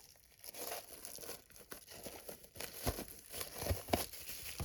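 Signed album packaging being opened with a fingernail: close, quiet crinkling and tearing of plastic wrap in uneven bursts, growing busier toward the end.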